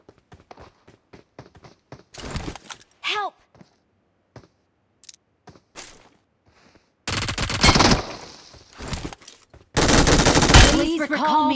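Automatic gunfire from the P90 and MG3 in the mobile battle royale game BGMI comes in sustained loud bursts, with scattered single shots and clicky taps in between.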